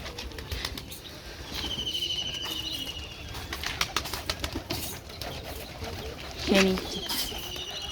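Pigeons coo and wings flutter nearby on a rooftop as they are fed, amid scattered pecking and rustling, with a faint voice and brief chirps in the background.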